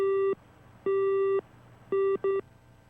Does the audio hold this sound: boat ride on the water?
no